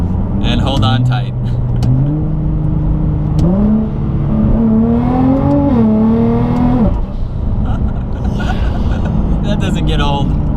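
A Rocket Bunny-kitted Nissan GT-R accelerates hard in manual mode, its engine note climbing loudly through rising revs with brief dips at gear changes, sustained and close throughout, with voices in the cabin over it.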